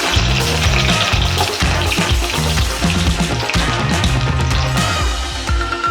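Garlic frying in hot oil in a pan, a loud, steady watery hiss and crackle that carries on without pause and with no talking.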